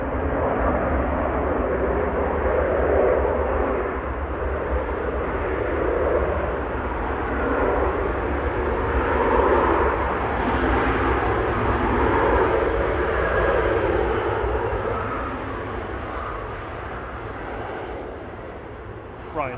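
A Ryanair aircraft arriving from Prague at Manchester Airport gives a steady, moderately loud engine drone with a faint rumble, while people talk over it throughout.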